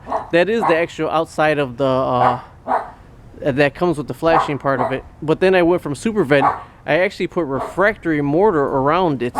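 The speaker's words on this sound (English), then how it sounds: "Excuse a dumb dog barking, that's my neighbor's dog." A dog barks repeatedly nearby in sharp bursts, overlapping someone talking steadily throughout.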